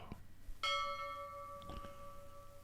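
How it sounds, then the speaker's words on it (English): A single bell is struck once and rings on with a clear, sustained tone that slowly fades, fairly loud against a quiet background with faint low rumble. "do starships have that kind of bell?"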